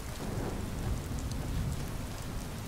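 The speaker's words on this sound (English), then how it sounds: "Mist and rain make for a most beautiful combination." Steady rain in the video game Skyrim, a dense continuous hiss with low rumbling texture that could be distant thunder, filling the whole stretch without speech.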